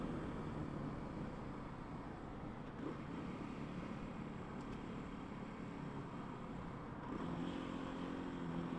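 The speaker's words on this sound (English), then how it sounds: "So you still have the power to accelerate even here, getting up past 60, 70. Bike's happy to do it." A 2024 Kawasaki KLX 300SM motorcycle accelerates to highway speed on a California road, its engine drone steady and buried under heavy wind rush and road noise throughout.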